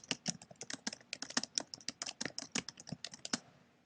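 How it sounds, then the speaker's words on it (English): Fingers type on a computer keyboard in a quick, steady run of crisp close key clicks, about five strokes per second, ending abruptly. "So if I type something on here"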